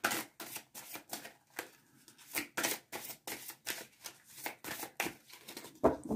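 Tarot cards being shuffled, a run of quick papery riffles and slaps in an irregular rhythm, close and fairly loud, with no voices.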